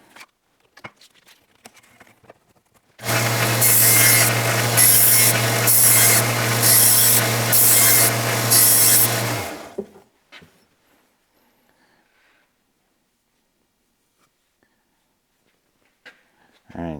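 A blade is ground on a motorized 1000 grit sharpener, a loud, steady humming buzz with rhythmic rasping pulses lasting about six seconds. Near-silence follows, broken only by faint handling sounds.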